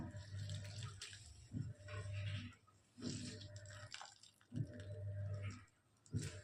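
Water is squeezed by hand out of soaked, swollen soya chunks, heard as soft, repeated wet gushes and squelches in short bursts with quiet pauses between them, close and faint.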